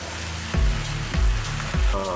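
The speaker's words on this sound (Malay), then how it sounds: "Baik, kita ambil air, masukkan terus." Water is added to a hot frying pan during cooking and sizzles and hisses loudly and steadily up close, with three heavier splashing bursts at regular intervals.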